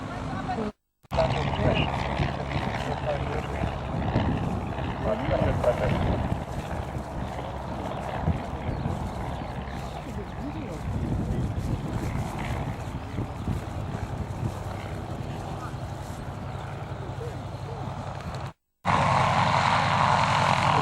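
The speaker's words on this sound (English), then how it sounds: "Magnificent Cessna 195." A vintage Cessna 195 flies past at an air show, a broad, distant engine drone that holds for many seconds amid wind noise, with a voice talking over it at times.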